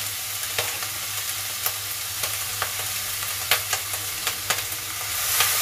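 Ingredients with soy sauce and vinegar are stirred in a hot pan, a continuous sizzle broken by regular scraping clicks of a spoon against the pan, close and fairly quiet, with no voices.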